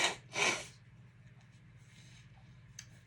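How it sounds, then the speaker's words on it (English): Two short, sharp nose blows sound up close, the second longer and stronger, followed by quiet room tone and a faint click. "I got to blow my nose."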